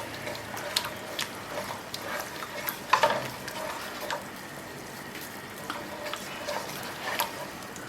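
Lamb curry with sweet soy sauce being stirred in a pan, a soft simmering sizzle broken by scraping and clattering strokes of the spoon, a louder clatter midway, close by with no voices.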